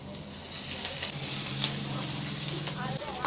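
Capsicum frying in a cumin and mustard seed tempering with curry leaves, a steady loud sizzle with a constant hiss and faint stirring scrapes throughout, no pause.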